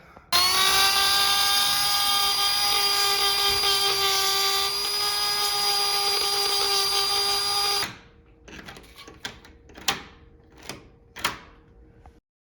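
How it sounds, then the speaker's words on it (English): A brand-new washing machine gives off a loud, steady, high-pitched motor whine for about eight seconds, then drops into a series of sharp, irregular rattling knocks. "Brand new washer rattling."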